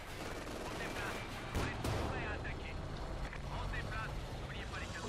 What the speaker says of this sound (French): Un enfoiré nous tire dessus.